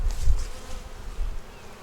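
Honey bees hum and buzz around an open hive frame of brood and nectar, a soft, close, continuous droning with no voices.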